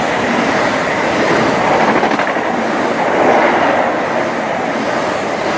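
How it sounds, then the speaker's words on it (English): A Heathrow Express Class 332 electric train races past on the line between Heathrow Airport Terminal 5 and London Paddington, a loud, steady, close rushing roar with faint rhythmic wheel clatter and no voices. "we also have a Heathrow Express Class 332. Racing through from Heathrow Airport, Terminal 5, going to London Paddington."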